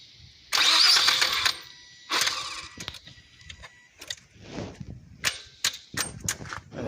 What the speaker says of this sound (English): Let's go try to start again